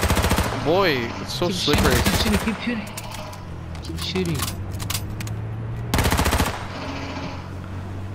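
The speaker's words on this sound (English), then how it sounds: "Keep shooting." Rapid automatic gunfire bursts from the video game H1Z1, loud and close in two main strings, with scattered single shots between while a player talks over it.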